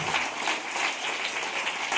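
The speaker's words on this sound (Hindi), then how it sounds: "जोरदार ताली होनी चाहिए, जोरदार ताली, जोरदार ताली।" Audience at a business training event in Lucknow clapping loudly, a thick sustained round of many hands with a brisk rhythmic pulse, close and steady.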